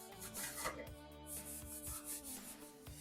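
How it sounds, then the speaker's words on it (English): Close, soft rubbing as a cloth soaked in wax and grease remover wipes down a VW Beetle front apron panel during restoration, a series of repeated scrubbing strokes with faint scraping. "Wipe it down with some wax and grease remover."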